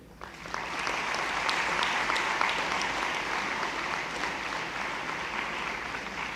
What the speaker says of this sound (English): So next one is a huge round of applause for the 25 years celebrations which we are starting today.